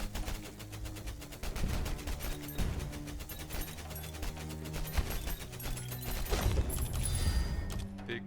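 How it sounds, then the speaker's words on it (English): Dense, rapid popping blasts of corpse explosions in the game Tower of Babel: Survivors of Chaos, a continuous crackling barrage over a layered music-and-effects bed with no break. "Big corpse explosion, that's actually pretty cool."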